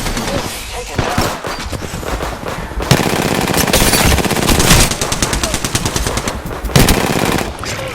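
Rapid automatic gunfire from the video game Apex Legends, bursts of fast repeated shots rattling loudly in several volleys, with a voice talking intermittently underneath.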